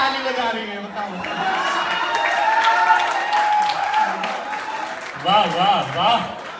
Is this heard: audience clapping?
yes